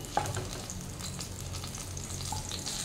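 Fried fish, likely katla for doi katla, lifted piece by piece from hot frying oil, a steady close sizzle and crackle throughout with a couple of faint utensil clicks, no talking.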